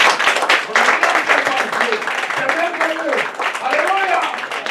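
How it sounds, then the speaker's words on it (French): Loud, sustained applause from a church congregation during a Paris worship service, dense clapping filling the whole stretch while a voice speaks over it. "On acclame très fort."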